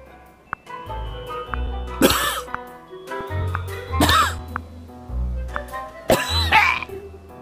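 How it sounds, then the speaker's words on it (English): Three harsh, explosive coughs from a character in an emulated Nintendo Switch game burst out at intervals over a low synthetic hum and scattered game sound effects. "He has to cough."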